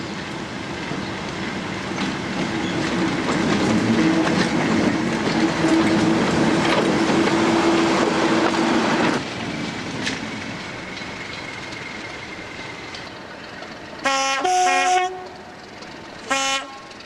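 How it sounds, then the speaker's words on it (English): A 1990s British Rail Class 37, 56 or 60 diesel locomotive runs around a loaded coal train after leaving a South Wales colliery siding. A steady loud engine drone fades to a lower idle, followed by two sharp horn blasts. "The engine, after pulling out the colliery siding, is uncoupled and runs around its train."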